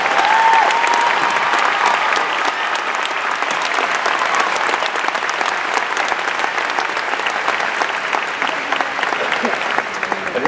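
Sustained applause from a large audience at a high school graduation, a dense, steady wash of clapping that continues throughout without letting up.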